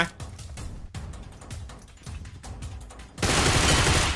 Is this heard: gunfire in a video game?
yes